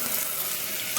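Red chilli, with green chilli already in, sizzles in a pan of oil for veg pulao, a short steady crackling hiss up close with a slight clatter at the end.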